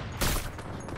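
A sharp burst of video game gunfire hits loud and close, then trails off into a few fainter follow-up shots within about a second.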